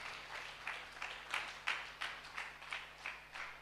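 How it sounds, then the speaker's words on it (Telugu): A church congregation claps in a steady, even rhythm, roughly ten soft rounded claps spaced evenly and heard a little distant. "చప్పట్లు కొట్టి దేవుని మహింపరుసు"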